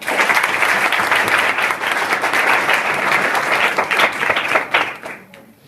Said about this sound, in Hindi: एकदम ताली बजाने के लिए जोरदार